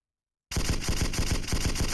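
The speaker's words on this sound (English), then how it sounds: "Look how steady this stays when you're using the bipod. Look at them bullets flying out too." In a video game, a bipod-mounted machine gun opens up after a moment of silence, firing a loud, close, rapid continuous burst of evenly spaced shots.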